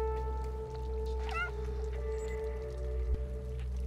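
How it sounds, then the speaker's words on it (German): A cat meows in the video game Stray, one short rising call in a high-security facility, heard over a steady mechanical hum and tonal background drones. "auch das Miauen verrät uns"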